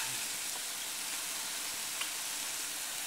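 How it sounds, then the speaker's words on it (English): Food being stirred in a hot pan gives a steady, soft sizzle of frying throughout, with faint scraping and one small click near the middle. "Show everybody how you stir."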